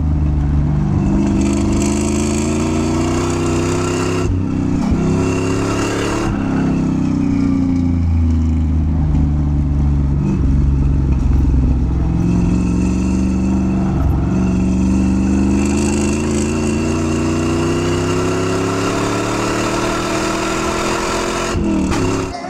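A third-generation Chevrolet Camaro engine runs loud and close, rumbling deeply. It revs repeatedly, with rising and falling pitch sweeps and short drops between pulls, and no one talks.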